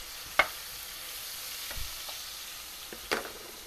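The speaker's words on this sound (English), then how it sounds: "I am just going to go ahead and melt our butter" Butter melts in a pan with a soft, quiet, steady sizzle, broken by a few faint clicks and scrapes of stirring.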